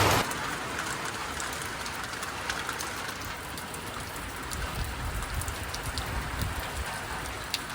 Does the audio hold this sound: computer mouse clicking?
no